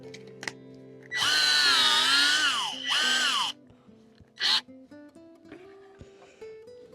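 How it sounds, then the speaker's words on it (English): A Ryobi drill fitted with a large bit bores into wood, its motor whining loud and close in two long bursts that rise and fall in pitch, then a brief third burst, with clicks and handling noise in between. "let's jump into the drill now and see how that handles"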